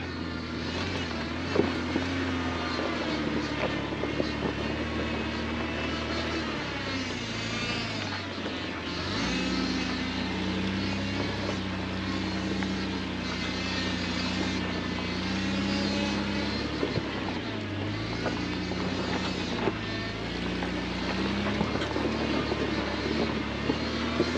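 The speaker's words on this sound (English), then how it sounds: "You can hear I barely was on the throttle at all coming up that hill" A vehicle engine at low throttle climbs a deeply rutted hill, a steady low drone with shifting pitch and dull bumps, continuous and fairly close throughout with no talk.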